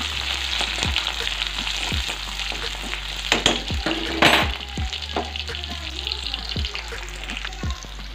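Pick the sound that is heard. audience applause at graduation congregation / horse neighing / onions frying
onions frying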